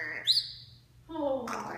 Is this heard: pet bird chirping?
yes